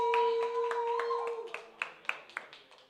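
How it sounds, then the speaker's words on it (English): Sparse audience clapping during a show featuring a K-pop band, a few distinct claps tapering into separate hand claps under a tonal sound and a voice. "Guys, another round of applause."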